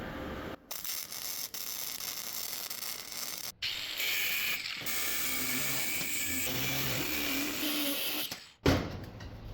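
Tack welding rebar for a stool, a welder crackles and hisses in a steady, close buzzing sizzle, broken by a few short gaps and ending with a sudden cutoff.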